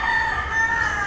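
A gamecock rooster from a White Kelso cross crows in one sustained, loud call nearby, its harmonic cry held steady over a low background hum.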